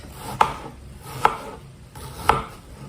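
Three separate knife chops through an onion on a cutting board, cutting it into medium chunks, each a sharp crisp thud spaced under a second apart in a quiet room, with no talking.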